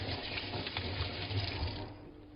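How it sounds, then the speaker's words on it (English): Water runs steadily from a kitchen tap as a hand is rinsed beneath it, a close, continuous splashing hiss during cooking that fades slightly toward the end. "And I'm just going to take a quick rinse of the hand here."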